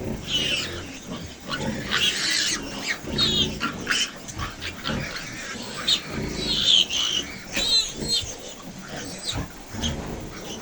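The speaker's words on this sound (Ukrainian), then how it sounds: "Свинка сама поїла і тепер годує поросяток" A sow nursing her piglets in a pen, with close, repeated squeals and grunts from the feeding litter in irregular bursts, while a person talks nearby.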